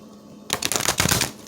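A deck of oracle cards being shuffled by hand, a rapid riffling flutter that starts abruptly after a brief quiet moment and continues close and steady to the end.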